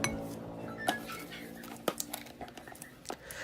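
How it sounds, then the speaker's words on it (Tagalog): Butter and brown sugar being stirred in a bowl, with scattered clinks and taps of a utensil against the bowl over a quiet, steady background. "At pagkatapos ay mix lang natin ito hanggang sa ma-dissolve na nga yung ating sugar"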